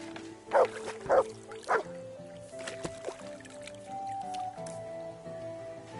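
A dog in the video game Kingdom Come barks three times in quick succession, close and clear, over a soft ambient game background with faint tonal music.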